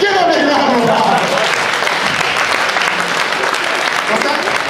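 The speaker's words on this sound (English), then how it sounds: "Give him a big round of applause." An audience at a show breaks into loud applause for a performer, a thick roar of clapping and some cheering that starts strong and stays dense, with a voice briefly audible near the start.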